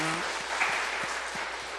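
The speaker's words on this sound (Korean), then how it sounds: "우리 다시 한번 환영의 박수하겠습니다" A church congregation at a Sunday worship service applauds in welcome, a dense, steady wash of clapping that holds evenly for a couple of seconds, with a faint tone at the start and a few soft low thumps beneath.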